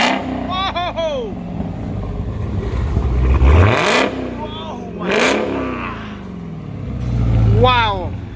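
A Dodge Charger Hellcat fitted with a GtHaus American Roar Racing exhaust revs hard several times, loud and close, each rising blast falling away, with excited talk over the engine.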